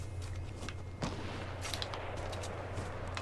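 Gunfire in Fortnite Battle Royale comes as a sharp shot followed by a few fainter distant reports over a constant low game hum.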